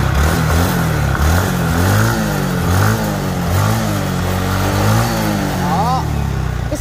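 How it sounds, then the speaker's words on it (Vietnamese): Yamaha Nouvo 5 motorcycle engine starting and then running, a steady close mid-pitched idle with periodic rising revs throughout, no talk over it. "Máy móc của cái dòng Novol 5 này thì nổ rất là giòn mọi người nhá"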